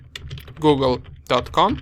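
Keys on a computer keyboard are typed briefly as a ping command is entered; soft, close keystrokes sit under a spoken voice.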